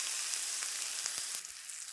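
Ground chutney sizzles in a hot tempering after a splash of water, a steady close hiss with a few soft stirring taps, easing slightly toward the end, with no voices.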